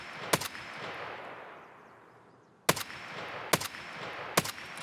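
Single rifle shots from an SR-25 in Escape From Tarkov, four sharp loud cracks spaced a second or two apart, each followed by a brief echoing tail over a steady ambient hiss.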